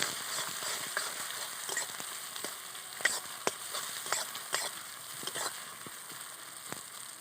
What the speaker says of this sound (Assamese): জালুক জলকীয়া আৰু জিৰাখিনি কেঁচা গোন্ধ নোযোৱালৈকে অকণমান ভাজিম